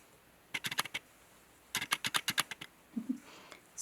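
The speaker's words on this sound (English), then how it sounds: "Sorry for all the clicking. My lens is trying to focus." A camera lens autofocus clicking while crochet is filmed, two quick bursts of rapid sharp ticks, close and fairly faint, with a soft low thump near the end.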